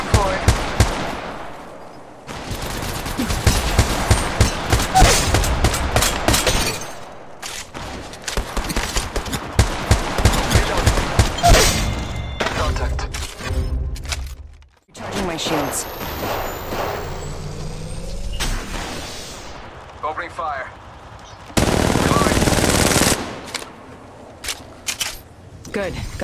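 Rapid gunfire in the mobile shooter Apex Legends Mobile, dense automatic bursts and single loud shots with sharp breaks and reload pauses, with game voices and other battle sounds mixed in.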